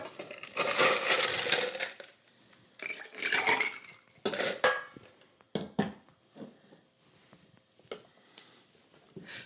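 Ice cubes tumble and clatter into a metal cocktail shaker in several bursts, sharp and close, with rattling clinks fading between drops and no talk.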